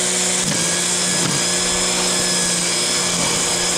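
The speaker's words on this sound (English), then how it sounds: "Who would have thought I'd be posting weed whacking content?" A string weed trimmer cuts through weeds and foxtails outdoors, a loud steady high-pitched motor whine close by with brief dips where it bites into growth.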